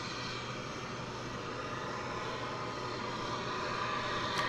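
An American Airlines airliner arriving at DFW Airport from Austin gives a steady, distant engine roar, a smooth even rumble that holds throughout.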